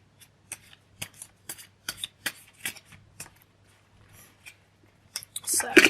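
Tarot cards being shuffled by hand before a Pisces reading, a run of quick crisp riffles and flicks that ends in a louder, denser burst of card noise.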